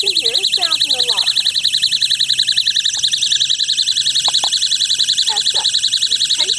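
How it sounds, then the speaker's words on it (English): A shrill electronic alarm from a mini motion-detector travel alarm warbles rapidly and continuously, loud and close, with a few faint clicks and brief voice sounds underneath. "it picks up any of your motion, and then as you can hear, it sounds an alarm"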